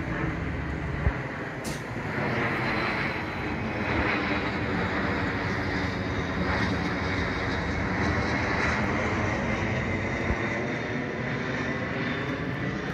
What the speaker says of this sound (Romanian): uitați un avion extraordinar.